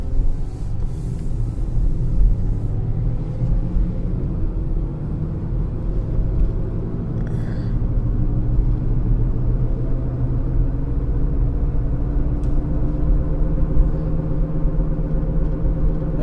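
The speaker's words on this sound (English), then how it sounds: "Yeah, it's a wheel bearing noise." A 2015 Kia Sorento 2.4 with a worn front left wheel bearing on a test drive: a steady, low droning growl runs under the road rumble inside the cabin, rising and shifting slightly with speed.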